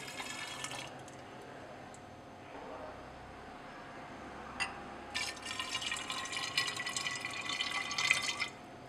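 Liquid organic product is poured back into a glass separatory funnel in a lab: faint drips at first, then a close, splashy trickle of pouring liquid that builds over the last few seconds.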